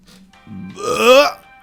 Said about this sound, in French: Tu m'as entendu roter, man?